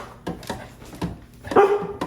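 A pet dog barks on command indoors: a quick series of short, sharp barks at close range, ending in one louder, higher yelp.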